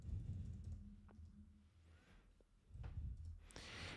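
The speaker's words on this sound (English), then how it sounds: "I'm going to type start." Short bursts of key presses on a computer keyboard as a command is typed, a few quick clustered taps, then a pause and a second run of clicks, close and fairly quiet with no talking.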